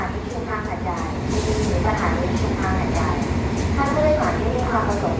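An ordinary passenger train rumbles at platform 2 of Hat Yai Junction station in Thailand, a steady low rolling din with faint squeals, while a station announcement is heard over it.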